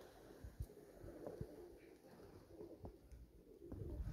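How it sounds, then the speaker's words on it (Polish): Pigeons sitting on a roof coo in low, soft, throaty bursts, several separate calls spaced across a few seconds, faint against quiet outdoor background noise. "Gołębie siedzą na dachu."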